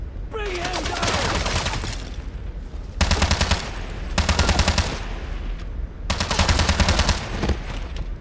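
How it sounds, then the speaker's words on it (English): Machine gun fire from James Bond 007: Blood Stone rattles in several sustained bursts, loud and dense, separated by brief pauses amid game combat noise. "Take him down! Keep firing!"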